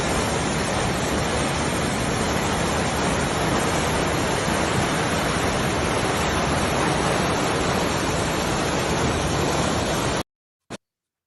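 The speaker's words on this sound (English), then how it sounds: "It sounded like a lot of white noise, but it was actually a raging river." A steady, roaring rush of a raging river fills the scene, broad and unbroken like white noise, then cuts off abruptly near the end.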